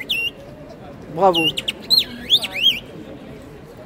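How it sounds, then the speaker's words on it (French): Nightingale bird-call water whistle blown by a street vendor, producing several warbling, trilling chirps in quick bursts, loud and close, with a person speaking briefly. "Sifflet, rossignol."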